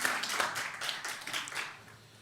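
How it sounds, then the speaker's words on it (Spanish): A church congregation claps briefly, a scatter of close hand claps that fades out within about two seconds. "¿Cuánto le da un aplauso al Rey?"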